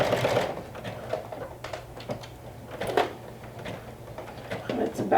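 A sewing machine back stitching fabric runs in short mechanical bursts with a brief pause, moderately close and fairly quiet, with no talk over it.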